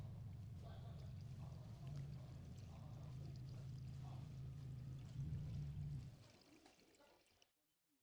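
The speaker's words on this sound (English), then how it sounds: "Add coolant." Coolant pours steadily into the radiator of a 2007–2018 Jeep Wrangler JK, a soft continuous gurgling stream that tapers off and stops near the end, faint and close.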